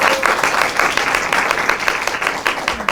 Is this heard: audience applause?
yes